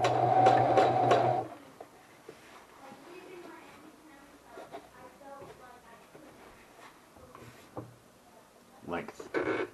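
A sewing machine runs in a fast, loud burst of stitching for about a second and a half, then stops. Quieter handling noises and a voice talking follow.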